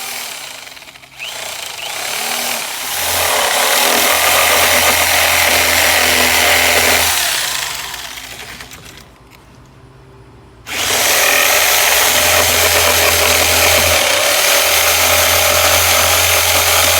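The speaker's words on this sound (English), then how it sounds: "Now it's time to cut the medallion using a jigsaw." A jigsaw cuts a wooden medallion with a loud, steady motor buzz that drops away briefly midway, then resumes at full strength until the end.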